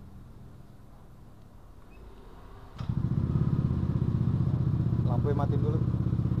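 Yamaha Aerox scooter fitted with a Yamaha Vixion switch, engine starting with a sharp click and then idling steadily with a close, rumbling putter while someone talks briefly over it.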